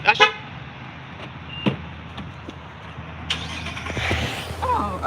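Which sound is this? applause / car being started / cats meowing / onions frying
car being started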